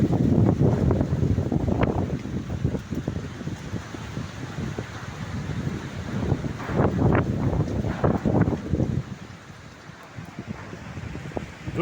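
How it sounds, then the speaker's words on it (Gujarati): Strong windstorm gusting through the Dandia Bazaar area of Bharuch, roaring and buffeting steadily at close range with rattling and rustling bursts throughout. "જોઈ રહ્યા છો તમે ભરૂચની અંદર વાવાઝોડું કેવું ચાલી રહેલું છે."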